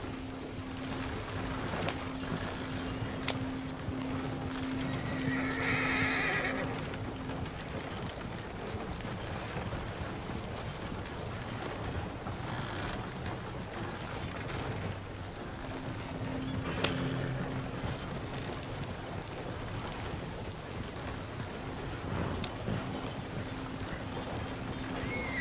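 Horse hooves clip-clop steadily in the Red Dead Redemption 2 video game, a faint continuous plodding rhythm under low ambient noise, with a brief neigh partway through.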